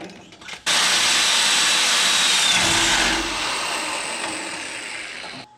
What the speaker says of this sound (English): drill through the frame here first. So that's what we're doing now.